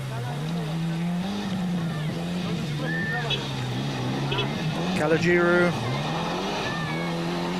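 Mitsubishi Galant rally car, number 11, pushed hard along a dusty gravel special stage at the 1992 Cyprus Rally, its engine droning steadily with revs rising and falling, heard under continuous commentary.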